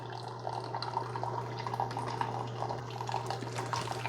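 A steady coffee stream from a Keurig K-Express single-serve coffee maker pouring and trickling into a cup, continuous and close, over a low constant machine hum.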